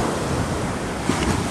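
Ocean surf rolls steadily onto the beach at San Felipe, Zambales, a dense continuous wash of breaking waves with wind buffeting the microphone, close and fairly loud with no voices.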